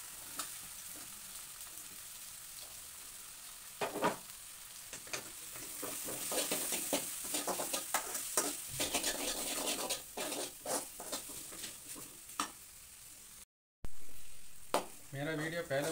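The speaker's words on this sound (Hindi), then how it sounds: "इसको कटा हुआ आलू डाल रहा हूँ।" Chopped potatoes fry in a pan for aloo rice, with a soft continuous sizzle broken by repeated scraping stirs and patters, close and fairly quiet, and a brief pause near the end.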